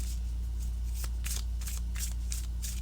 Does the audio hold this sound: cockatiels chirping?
no